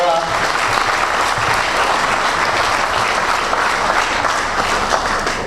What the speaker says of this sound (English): A big round of applause for Vera.